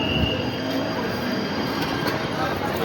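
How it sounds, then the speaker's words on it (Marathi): A local train pulls away from Talegaon station toward Pune, its wheels rumbling and squealing loudly over the rails nearby, with faint clatter and brief background voices. "लोकल चालली आता पुण्याला निघाली लोकल."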